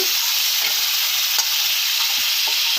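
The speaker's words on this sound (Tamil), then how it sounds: "குழம்பு போட்ட சிக்கனை நல்லா கிளறி விட்டுறணும்" Chicken for a chicken sukka varuval sizzles in a pan while being stirred, a dense constant hiss broken by soft scraping strokes of the spoon.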